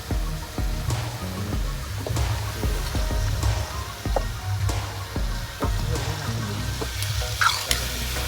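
Tomatoes go into a hot pan of oil for a green turmeric curry, giving a continuous close sizzle with crackles and a few stirring clinks, no talking.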